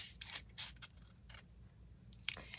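Several quick, crisp snips of scissors cutting paper, spaced irregularly over a few seconds in a quiet room.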